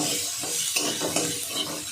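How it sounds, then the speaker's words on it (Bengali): Food fries in a pan with a bright, continuous sizzle while a spatula stirs in rhythmic scrapes and taps, close and fairly loud, with no voices. "এই দেখুন ভাজা হচ্ছে।"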